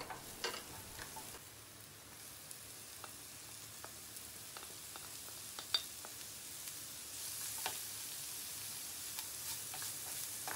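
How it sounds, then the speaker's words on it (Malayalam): Chopped onions and shallots sautéing in oil in a pan for chicken cutlets, a faint steady sizzle with scattered soft scraping stirs and small clicks, no talking. "ഇനി ഇതിലേക്ക് അരിഞ്ഞു വെച്ചിരിക്കുന്ന ഉള്ളിയും സവാളയും ചേർത്ത് നല്ലപോലെ വഴറ്റുക"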